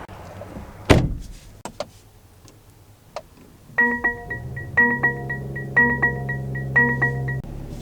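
Door of a 2022 Mercedes-AMG GT 43 opening and closing with a solid thump near the start, followed by a few light clicks and then repeated electronic chimes and beeps inside the cabin.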